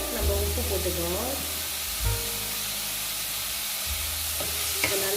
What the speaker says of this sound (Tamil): அது வரைக்கும் நம்ம வெங்காயத்தை நல்லா கோல்டன் ப்ரௌன் ஆகிற அளவுக்கு நம்ம இதை வதக்கணும்